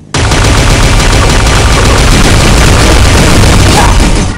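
Rapid, very loud automatic gunfire from the Killer Chord weapon in the video game Pixel Gun 3D, forming a dense continuous burst from start to end.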